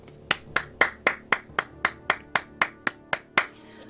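Twelve sharp, evenly spaced claps ring out in a steady rhythm, crisp and close with a short room echo and no voices over them.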